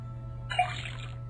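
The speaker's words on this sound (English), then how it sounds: "put the sample of liquid into the cauldron, then tap the faucet" In the Detective Grimoire video game, a faucet pours liquid into a cauldron. The short, splashy gush starts suddenly midway over a low steady hum, with no talking.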